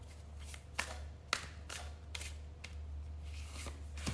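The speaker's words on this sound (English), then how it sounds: "let's now pull out your tarot cards" Tarot cards are drawn from the deck and laid out one by one, each giving a soft slap or flick against a table over a constant low background hiss.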